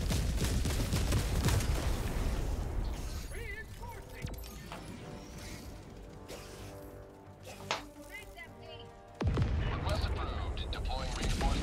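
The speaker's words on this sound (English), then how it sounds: "Oh god, explosion just killed me." Loud explosions and bursts of gunfire from a Helldivers 2 battle crash and rattle, easing off in the middle before a heavy blast returns, with players talking throughout.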